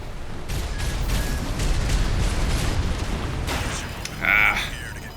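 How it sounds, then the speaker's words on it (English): Explosions rumble and boom in Armored Core VI: Fires of Rubicon, heavy and continuous over a low roar, with a sharper burst and a tonal alert near the end. "get clear of explosions on the ground"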